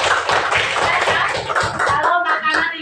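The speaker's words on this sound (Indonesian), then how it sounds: "tepuk tangan untuk piak" Classroom of primary school pupils clapping together for a classmate, a dense steady burst of close applause with a few voices mixed in.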